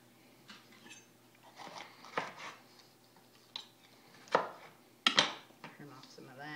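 A knife cuts and trims an Anaheim pepper with its top cut off and center scraped out: a few sharp, separate slicing clicks and taps at close range, with quiet handling sounds between them and no talking.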